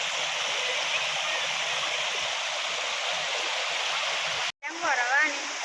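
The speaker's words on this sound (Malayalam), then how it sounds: "പക്ഷേ വെള്ളത്തിൻ്റെ ഒഴുക്ക് നന്നായി കുറഞ്ഞു." A shallow stream with reduced flow rushes steadily and close by in a continuous hiss, broken by a brief dropout before a voice is heard over the water.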